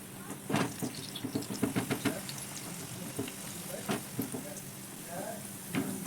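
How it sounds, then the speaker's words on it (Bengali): Egg paratha frying in hot oil in a pan, with more hot oil splashed over its top: a steady close sizzle runs throughout, broken by a few sharper crackling bursts and light knocks from stirring. "সাইড থেকে গরম তেল একটু ছিটিয়ে দিচ্ছি যাতে উপরের দিকটাও সুন্দর করে ভাজা"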